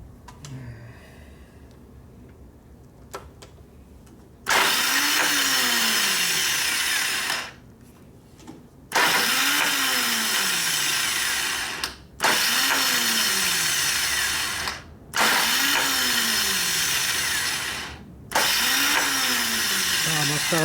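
A starter with a faulty Bendix cranks a 1989 Harley 93ci panhead softail stroker motor in four or five long, loud whirring bursts separated by short pauses, each winding up in pitch; the engine does not catch.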